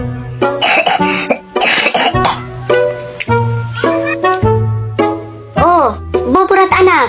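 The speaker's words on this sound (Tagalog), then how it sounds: "Inuubo ka na, ha?" A child coughs repeatedly in short harsh bursts, close and loud, over background music, with a brief throat-clearing sound, in a playful home storytime scene.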